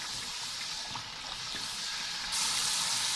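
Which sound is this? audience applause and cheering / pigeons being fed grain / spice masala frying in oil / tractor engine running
spice masala frying in oil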